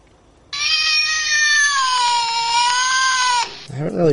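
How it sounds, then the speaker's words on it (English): A voice assistant app on an Android phone plays a recorded cat meow, one long, loud, wavering yowl lasting about three seconds, followed by a brief second sound. "What sound does a cat make?"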